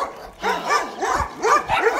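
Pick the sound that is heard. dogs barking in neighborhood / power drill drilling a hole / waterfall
dogs barking in neighborhood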